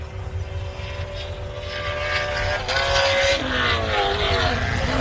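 A 400 cubic inch drag racing car engine revs hard at a drag strip, a loud rising roar that climbs in pitch and intensity over a few seconds.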